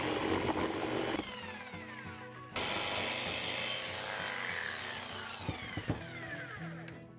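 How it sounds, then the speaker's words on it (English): A jigsaw cuts through wood in a DIY build of a beach-themed clock, a loud, steady, rasping buzz that pauses briefly, then resumes and runs continuously to the end. "I'm now going to cut out this so this can sit in there with my jigsaw"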